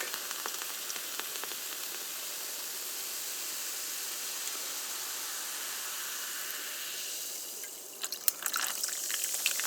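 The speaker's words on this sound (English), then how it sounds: "you open up this raspberry lemonade ginger ale from the can and you pour it into this mug" Raspberry lemonade ginger ale pours from a can into a mug in a steady, continuous fizzy stream for several seconds, then a few brief clinks and drips as the flow ends.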